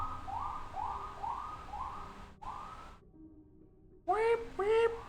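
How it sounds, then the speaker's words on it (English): A police siren wails in repeated rising sweeps, moderately distant, then after a short gap returns louder with faster whoops, under a quiet background. "Sirens."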